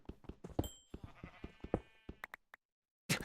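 Sheep in the Minecraft video game bleating repeatedly, a run of short rhythmic bleats followed by a brief gap and a final burst, clear and alone without talk.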